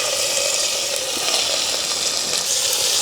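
Shallots, green chillies and curry leaves frying in hot oil with fenugreek, for a village-style crab curry, giving a steady close hiss and crackle of sizzling throughout, with no voices.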